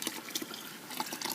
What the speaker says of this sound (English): We'll pour this in here very carefully